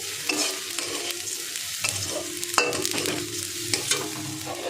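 A spoon stirs zarda pulao rice in a pot with bay leaves, making repeated scraping strokes over a soft, continuous sizzle, close and without talk.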